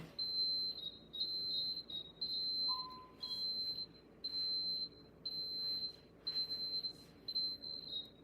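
A home alarm shrills in a run of repeated high beeps, steady bursts with short gaps, moderately loud over a quiet room.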